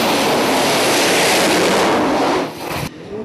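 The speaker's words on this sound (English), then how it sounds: "take the engine from the Sea King and stick it on a four-wheel motor" A Sea King helicopter engine fitted to a four-wheel vehicle roars at full power with a loud, steady turbine whine and broad rushing noise, then drops abruptly in pitch and volume near the end as it spools down.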